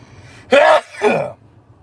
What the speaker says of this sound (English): Now I'm about to sneeze.